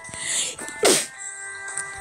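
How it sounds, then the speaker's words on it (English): A single sharp sneeze bursts out close by, brief and loud, amid quiet room sound. "oh, that was a bad sneeze"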